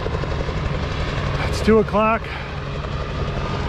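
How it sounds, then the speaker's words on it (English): A helicopter flies overhead during a bass fishing tournament on the Catawba, its steady low engine drone sounding moderately near while someone briefly speaks over it. "Y'all, the helicopter there."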